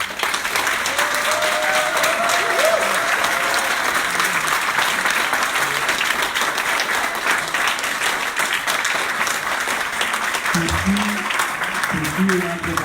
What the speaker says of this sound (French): j'aimerais bien avoir un très grand applaudissement pour